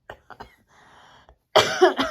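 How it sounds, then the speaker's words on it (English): A few short dry coughs, then a louder, harsher burst of coughing up close, with a quiet pause in between. "Excuse me, still coughing."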